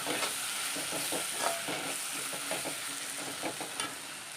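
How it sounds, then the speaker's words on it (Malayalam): Onion masala for beef curry sautés in a pan, a steady quiet sizzle with rhythmic scraping strokes of a spoon stirring throughout. "നന്നായിട്ടൊന്ന് വഴറ്റിയെടുക്കാം"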